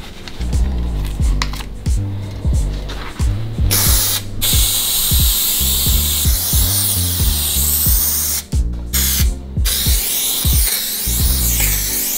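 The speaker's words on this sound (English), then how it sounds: "meaning you've got to spray both surfaces first." Spray adhesive is applied to campervan furniture surfaces before carpet lining, in a series of hissing spray bursts separated by short pauses and light mechanical clicks, close up.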